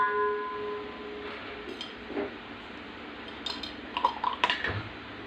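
A cooking pot clinks and knocks as it is set on a stove while preparing potato tomato rice, a few short metallic clatters near the end of an otherwise quiet stretch.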